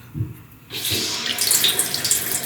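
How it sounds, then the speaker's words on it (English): The hot side of a faucet is turned on and water gushes out, with a soft trickle first and then a sudden loud, steady hiss of running water that leaks from the handle, close by. "Notice that it's leaking a lot of water from the handle. I mean, it's just gushing out there."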